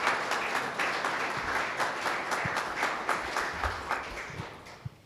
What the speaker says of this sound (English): please give one more round of applause